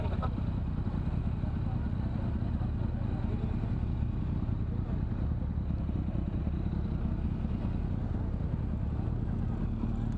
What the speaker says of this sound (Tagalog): ang dami dito ng motor